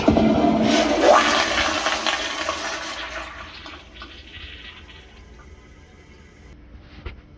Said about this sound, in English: As you notice with that flush, it is a lot shorter than it's supposed to be.